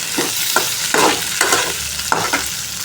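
Tomatoes sautéing in a pan, a steady loud sizzle with a spoon stirring through it in regular scraping strokes, close and without talk.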